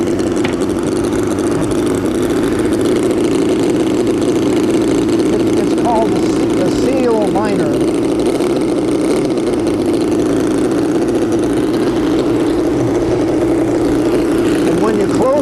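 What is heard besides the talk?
small model engine running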